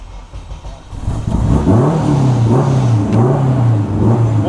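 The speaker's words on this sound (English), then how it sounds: "That muffler really changed the sound." A Honda Civic with a new muffler revs up from a rumbling idle into a loud, rising engine drone that holds and wavers through several throttle blips, close by with no talking.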